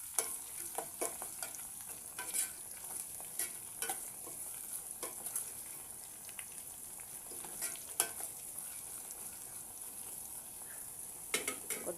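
Fenugreek dal frying in a pan gives a soft, steady sizzle, broken by occasional clinks and scrapes of a spoon stirring against the metal, faint and close with no talking.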